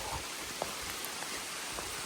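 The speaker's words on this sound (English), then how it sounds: "Rain is coming in strong and we're in for it." Heavy rain pours on a wooded mountain trail, a steady, dense hiss of drops close around with no gaps and faint scattered taps on top.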